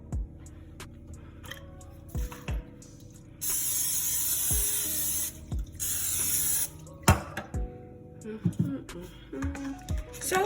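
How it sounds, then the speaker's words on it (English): Cooking oil spray hisses onto squash in bursts: one long spray, then a shorter one, amid kitchen clatter and tapping of the can. "I sprayed it with oil"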